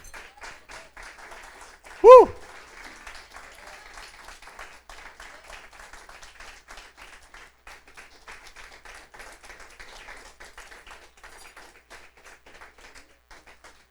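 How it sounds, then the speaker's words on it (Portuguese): A church congregation claps faintly and steadily in a rapid, even patter, with one sharp louder thump early on and the soft clapping carrying on throughout. "Aplauda mais ao Senhor, meu amado"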